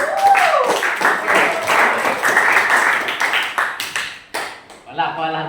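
Classroom clapping from students, a burst of individual claps that thins into scattered, distinct hand claps before a voice speaks at the end.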